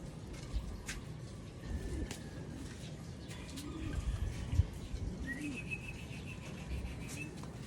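Pigeons cooing while being fed, with soft repeated low coos from several birds nearby, light chirps and a few faint flaps over a quiet outdoor background.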